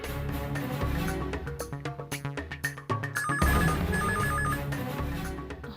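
A telephone in a Tamil TV serial scene rings repeatedly with a steady, patterned electronic trill, left unanswered over loud background music.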